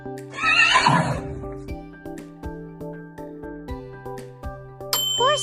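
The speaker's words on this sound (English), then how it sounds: "Horse." A horse on a farm lets out one loud, close whinny near the start, followed by steady rhythmic clip-clop hooves and a bright bell-like ding at the end.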